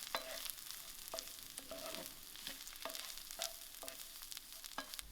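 Coconut and raisins frying in a pan before rice is added, a steady close sizzle broken by regular scraping stirs of a spoon about once a second.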